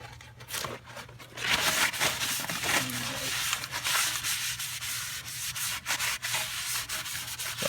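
Grease is rubbed and wiped off brake parts of a 2011 Kia Forte, giving a close, continuous scrubbing rasp with uneven strokes and brief pauses, no talking.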